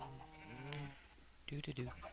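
A video game sheep bleats twice, close and clear, a wavering cry followed by a shorter quavering one.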